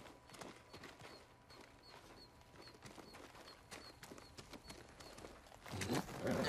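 A horse in the samurai video game Ghost of Tsushima trots with quiet, regular hoof clip-clops over faint ambient birdsong, growing louder as a rush of movement swells near the end.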